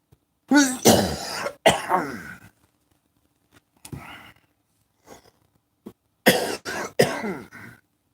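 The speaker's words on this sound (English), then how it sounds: "If this coughing fit doesn't go away" Harsh, repeated coughs come in loud bursts close up, with a quiet pause in the middle before another cluster of hacking coughs.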